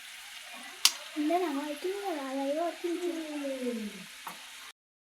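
French fries sizzle steadily in hot oil, a soft hiss running beneath a voice speaking close by.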